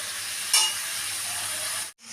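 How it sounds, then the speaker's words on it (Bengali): Pumpkin and ridge gourd are stir-fried in a pan for lentil dal, giving a steady close sizzle and hiss with one brief louder scrape near the start, then cutting off abruptly; no one speaks. "দিয়ে এটাকে আমি ভালো করে একটু কষিয়ে নেব, যাতে আদার গন্ধটাও না থাকে"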